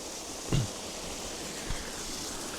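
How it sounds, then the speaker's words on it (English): A waterfall at Whatcom Falls park fills the scene with steady broadband rushing water, with a couple of brief thumps and no voices over it. "Now we're on top of this waterfall."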